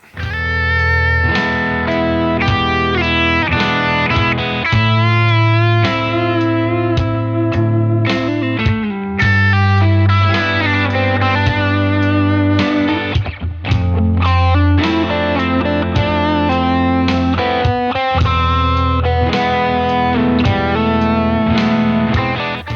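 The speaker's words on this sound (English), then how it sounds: "Today I'm checking out the UAFX Dream 65 amp sim pedal." Electric guitar played through a UAFX Dream '65 Reverb amp pedal emulating a Fender Deluxe Reverb, with chords and single notes ringing out, sustained and driven, loud and alone without speech.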